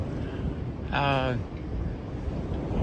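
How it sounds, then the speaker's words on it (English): Steady strong wind rumbles and buffets against the microphone throughout on a cold day over Ashtabula Harbor and Lake Erie, with a brief tonal burst partway through rising above the constant roar. "I'm out here on a cold and windy day"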